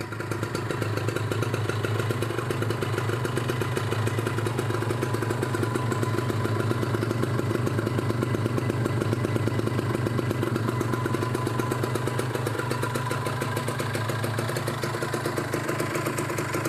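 A two-stroke 2012 Kawasaki Ninja 150 RR engine idles steadily nearby with a fast, even putter and light mechanical clatter, unbroken for the whole stretch.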